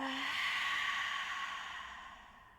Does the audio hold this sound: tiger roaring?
no